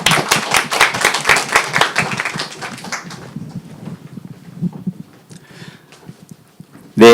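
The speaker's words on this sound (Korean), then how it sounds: "우리 박영기 회장님을 큰 박수로 환영해 주시기 바랍니다." Applause from an audience at a Korean labor-respect talk and concert event, welcoming the president of the Korean Association of Certified Public Labor Attorneys: loud, dense clapping for about three seconds that fades into scattered claps and room murmur.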